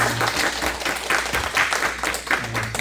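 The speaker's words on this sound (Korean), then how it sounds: "박수로 한번 환영하겠습니다." A church congregation applauds to welcome visitors during a service, with many hands clapping together in a steady, medium-loud burst and a low hum underneath.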